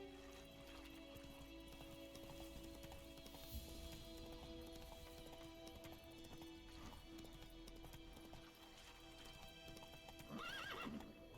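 A horse galloping in The Witcher 3 video game, rapid hoofbeats pounding steadily on the ground, with a whinny near the end, heard over faint game ambience and no talk.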